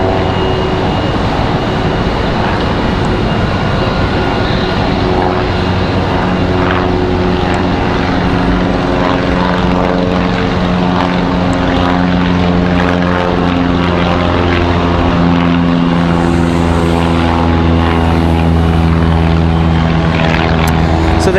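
A jet airliner departs from Raleigh-Durham International Airport, its engines roaring loud and continuous with sustained tonal whine layered over deep rumble for the whole stretch, no talk heard.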